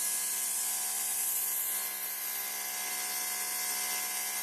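A Greenworks Pro 2700 PSI brushless electric pressure washer sprays hard onto concrete, its steady high-pitched motor whine and hissing water jet running continuously and loud without a break, with no voices.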